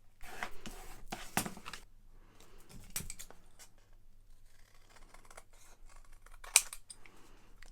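Scissors cut paper for a notebook cover with a few quiet, crisp snips and soft scraping sounds spread over a mostly hushed indoor stretch.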